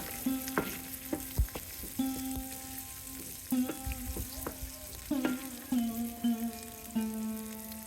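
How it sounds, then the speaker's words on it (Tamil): Onions sizzle steadily in hot oil, with a continuous frying hiss and periodic scraping stirs of a spatula in the pan. "இந்த ஆனியன்ஸ் நல்லா ஃப்ரை ஆகிறதுக்கு ஒரு டூ டு த்ரீ மினிட்ஸ் நம்ம வெயிட் பண்ணோம்"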